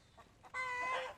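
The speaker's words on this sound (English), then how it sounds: "I hear the egg song. My hens are laying their eggs." Laying hen giving an egg song in a backyard flock; two faint short clucks, then a louder drawn-out squawking call, fairly close and alone.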